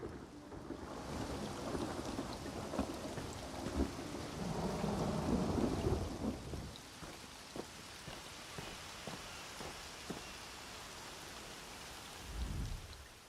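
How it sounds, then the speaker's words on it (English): A thunderstorm rages in Elder Scrolls Online: steady rain patters while a long, rolling rumble of thunder swells and fades, followed by scattered drips and a final low thunder roll near the end. "Though, normally, everyone isn't stranded by a storm this way."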